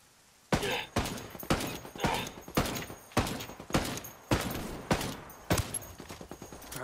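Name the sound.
gunfire in the video game Ghost Recon Wildlands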